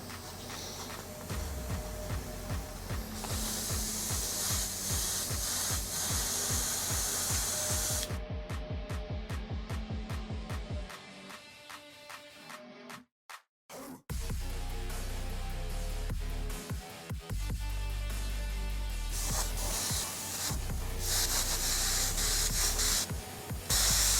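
Airbrush spraying illustration white paint over a graphic for a chrome effect, close steady hissing bursts of air and paint, broken by brief pauses and short rapid pulses, with one near-silent gap midway.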